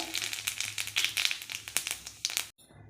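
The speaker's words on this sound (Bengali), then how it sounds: "আর তেলটা গরম হয়ে গেছে, আমি একটু জিরে ফোড়ন দেব।" Cumin seeds sizzling and crackling in hot white cooking oil in a kadai. The sound is a dense, steady spitting crackle with sharp pops, close and fairly loud, and it cuts off abruptly near the end.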